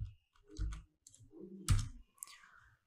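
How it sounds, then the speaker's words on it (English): Typing on a computer keyboard gives a few scattered key clicks and taps in quick irregular bursts, fairly close and quiet, with silent gaps between them and no talk. "we're going to check it by typing some words"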